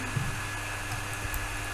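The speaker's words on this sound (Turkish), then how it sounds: "bilgisayarım çok güçlü bir bilgisayar değil. O yüzden bağırıyor şu an kendisi." A struggling home computer's cooling fan roars loudly while a game runs, a steady broadband whoosh with a faint hum, continuous and close, with no talking.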